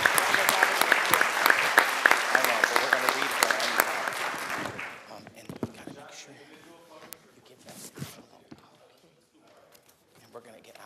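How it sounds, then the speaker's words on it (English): A small group of building staff gives Carlos a round of applause, brisk, close claps for about five seconds that fade quickly, followed by quiet shuffling and a few faint sounds. "Let's give him a round of applause."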